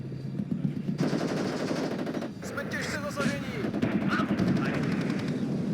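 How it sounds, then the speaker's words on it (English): Rapid bursts of machine gun fire crackle through a dense in-game battle in the Warno 10v10 multiplayer wargame, mixed with other gunfire and rumbling explosions, loud and continuous throughout. "You do have 2 machine guns."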